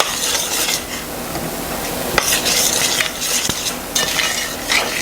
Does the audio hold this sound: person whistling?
no